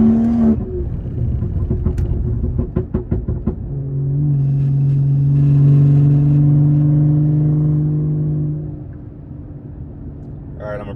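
A BMW G30 540i (530 hp) sweeping uphill on Big Tujunga mountain road: a quick burst of revs around a downshift, then a sustained, droning engine pull that fades toward the end.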